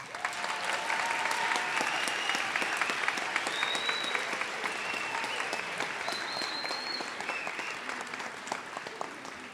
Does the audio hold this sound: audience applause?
yes